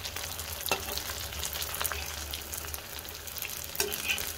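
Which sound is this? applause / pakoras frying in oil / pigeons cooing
pakoras frying in oil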